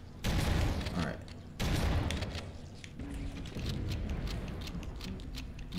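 Two loud explosions burst in Halo Combat Evolved's Library level, a sudden blast then a second about a second later, followed by a rumbling tail and scattered gunfire crackle.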